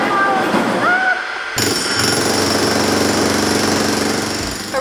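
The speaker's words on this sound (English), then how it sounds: "We're gonna jackhammer these bricks right out of here." A loud jackhammer pounds continuously at close range, breaking out bricks during a studio apartment remodel, a rapid rattling hammering that runs steadily throughout with some faint background voices early on.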